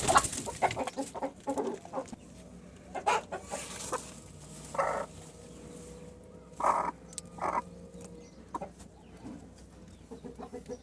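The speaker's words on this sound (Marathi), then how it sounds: "ही आपली कोंबडी आहे" A hen clucks repeatedly at close range, with short bursts of clucking and calls spread across the clip and rural background noise beneath, as she is placed onto a clutch of fifteen eggs.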